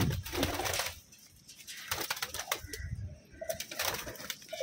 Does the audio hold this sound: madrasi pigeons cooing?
yes